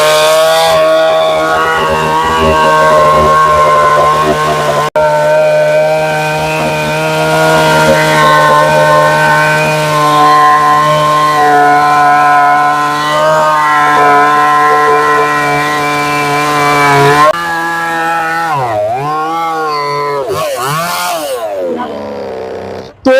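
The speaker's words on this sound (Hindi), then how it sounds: "मैंने अभी आपको ये हस्पांडा के 58 सीसी 2 स्टॉक इंजन चैनसो से बहुत सारे डेमो दिखाए" A Hyundai 58cc two-stroke petrol chainsaw roars loudly and steadily while cutting wood, its engine note holding high before dropping and revving up and down in bursts near the end.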